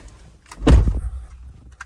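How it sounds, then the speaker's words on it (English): A truck door shuts with a single close, heavy thunk and a short rattle afterward, then quiet with a faint click near the end. "Close the door."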